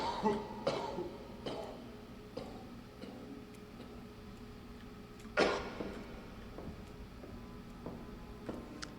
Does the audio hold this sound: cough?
yes